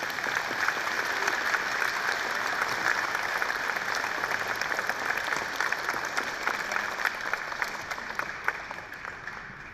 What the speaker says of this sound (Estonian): No veel korra üks aplaus.